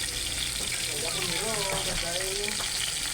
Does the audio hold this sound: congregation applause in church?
no